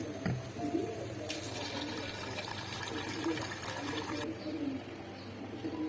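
Mixed lentils, including mung dal, are rinsed in water, giving a few seconds of splashing and swishing that rises and then settles, close and moderately loud, over faint background noise.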